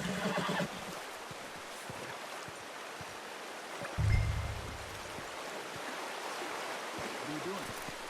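A horse whinnies in the Western open-world game Red Dead Redemption 2, a short neigh near the start over a steady bed of flowing water, followed later by a low thump and ambient rustle.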